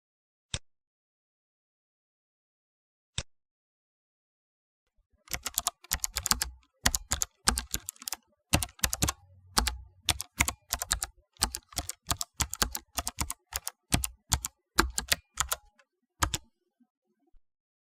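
Keys clack on a computer keyboard while text is typed into a text box in MS Word: two lone taps, a pause, then a fast irregular burst of crisp, close keystrokes that runs for about twelve seconds.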